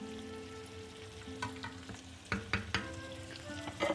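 Onion sautéing in a pan for a lentil soup, a steady close sizzle with several sharp utensil scrapes and clinks toward the end, no voices.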